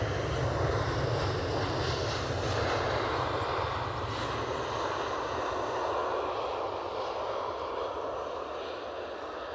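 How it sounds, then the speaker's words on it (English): Aer Lingus Airbus A320 inbound from Dublin to Edinburgh, a steady broadband engine roar that holds loud and even for the whole stretch, no voices over it. "Aer Lingus in the meantime, inbound from Dublin. Their only A320 flight of the day"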